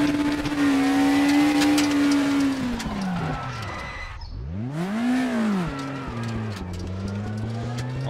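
A race car engine in a racing simulator game roars and shifts pitch, dipping low then swooping back up through gear changes, with tire squeal and skidding, loud and close with no talk over it.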